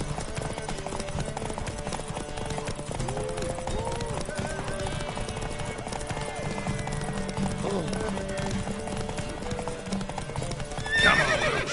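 A horse gallops in The Witcher 3, with rapid rhythmic hoof clip-clop running steadily and close throughout, a whinny near the end, and a voice speaking over it.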